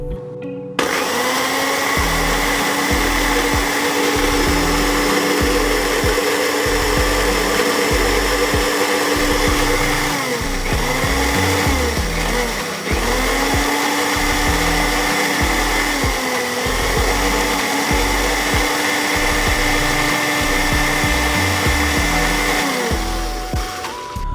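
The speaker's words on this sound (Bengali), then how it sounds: "এখন আমরা এটাকে ব্লেন্ড করে ফেলি চলুন" A loud blender whirs continuously while blending an aquarium fish food mixture, its motor pitch dipping and recovering a few times as the mixture churns, with no voices.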